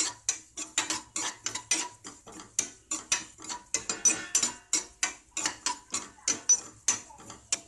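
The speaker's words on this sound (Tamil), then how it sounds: "இந்த மிளகு மட்டும் சத்தம் கேட்குது பார்த்தீங்களா, சட சடன்னு அந்த மாதிரி வறுக்கணும்." Black peppercorns crackle as they dry roast in a pan for milagu kulambu, a steady run of sharp, close pops and rattling ticks in quick, uneven rhythm, with no talking.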